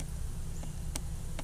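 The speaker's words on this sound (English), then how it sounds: "Get these bees out of here." A soft, constant buzz of honey bees hums close by during a hive inspection, with a few faint clicks and taps over the drone.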